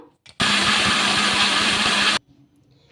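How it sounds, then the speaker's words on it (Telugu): A loud mixer grinder whirs steadily for about two seconds, then cuts off abruptly, leaving quiet room noise. "ఇంకా మూత పెట్టేసుకొని మిక్సీ అయితే పట్టేసుకుందాము"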